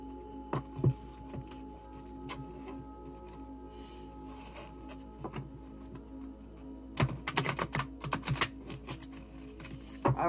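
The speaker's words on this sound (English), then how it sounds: "let's get our cards out and shuffle our cards." Clusters of soft tarot card clicks and riffles as the deck is shuffled, with a quiet stretch before a denser burst of shuffling near the end, close and fairly faint.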